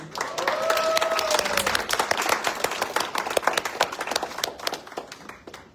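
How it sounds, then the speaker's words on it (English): Loud, dense applause from a crowd, steady throughout with scattered sharp claps standing out, some cheering voices mixed in. "a very, very loud and warm round of applause for Miss Cecilia Alcaraz."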